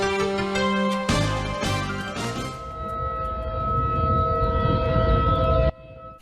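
Civil defense tornado warning siren wailing loudly and steadily for several seconds, its tone sustained over a rumbling background before cutting off abruptly.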